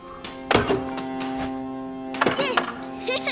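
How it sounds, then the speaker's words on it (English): Sling stones striking targets in the video game A Plague Tale: Innocence, two sharp thunking impacts about two seconds apart over a steady musical drone, with talk in between. "You have 6 stones, 6 possible shots. Try and shoot as many targets as possible."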